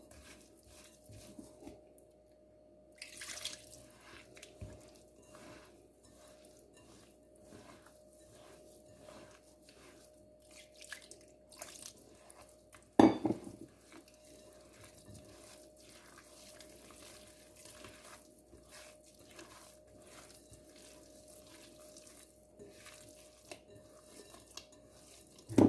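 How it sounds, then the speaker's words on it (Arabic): Kitchen tap water runs in uneven bursts while semolina dough is being mixed, with a few light clinks close by and no talk. "نزيد واحد شويه ديال الماء،"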